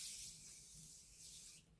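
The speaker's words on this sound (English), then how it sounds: "I'm going to spray my face" A cucumber-scented face mist spray hisses in a soft, close, continuous burst lasting just under two seconds, with no talking over it.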